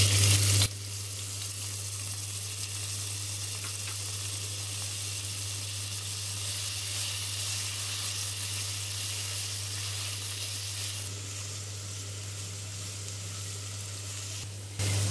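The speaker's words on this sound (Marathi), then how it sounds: "आपण हा बारीक चिरलेला कांदा घालूया." Finely chopped onion hisses in hot oil with spices for Maharashtrian chicken biryani, a loud continuous sizzle held steady for over ten seconds beneath a constant low hum, no voices.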